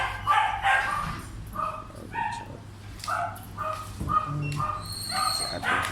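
Dog yips and short barks inside a pet shop, a series of bright, close calls scattered across several seconds over a steady low hum and shop background.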